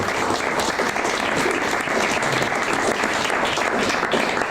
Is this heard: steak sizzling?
no